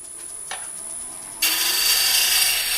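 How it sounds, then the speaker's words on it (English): A round carbide cutter on a woodturning lathe shaping the outside of a spinning wood piece, a steady whirring hiss that jumps abruptly into a louder, brighter continuous scraping as the tool bites in. "I'm going to use the round carbide cutter to shape the outside with just kind of some spindle turning"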